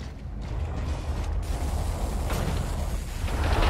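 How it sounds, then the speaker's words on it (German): A heavy mechanical door grinds and creaks open in Gears of War, a sustained metallic rumble with rattling ratchet-like texture that builds slightly toward the end. "Jack, mach die Tür auf."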